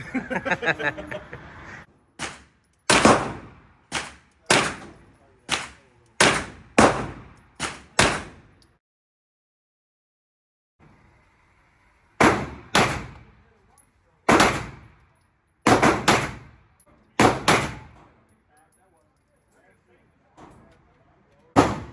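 Compact pistol fired at an outdoor shooting range, a run of sharp, loud gunshots in irregular bursts with short pauses and a longer gap midway, each crack ringing briefly before the next.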